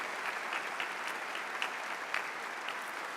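A church congregation claps steadily during a Catholic Mass homily, a dense, even patter of many hands at moderate distance with no voices over it.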